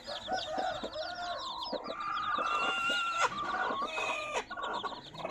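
Kata breed hens with their chicks, offspring of a big parrot-beak rooster, cluck close by while the chicks keep up a busy, high peeping chatter throughout, with no talking.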